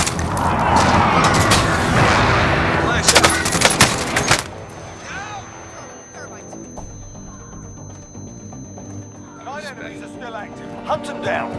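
Gunfire from the video game Call of Duty: Modern Warfare, a dense burst of loud shots and explosions over the first four seconds, then quieter scattered battle noise with radio voices and game chatter beneath.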